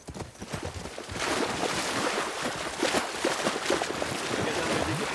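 Horses' hooves clop in a steady, rapid rhythm in the video game The Last of Us Part II, nearby and fairly loud over a dense, noisy background, with no talk.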